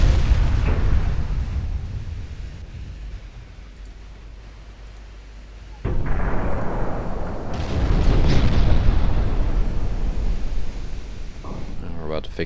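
Naval gunfire and shell explosions in the warship game Ultimate Admiral Dreadnoughts: a steady low rumble of distant cannon fire, then a sharp loud blast followed by sustained booming, with someone talking over the battle.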